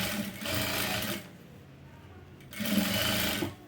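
An electric sewing machine runs in two bursts of rapid mechanical whirring while topstitching leaf-pattern piping on fabric, with a quiet pause between the runs.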